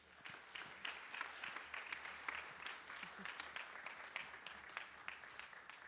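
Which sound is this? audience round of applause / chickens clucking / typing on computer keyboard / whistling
audience round of applause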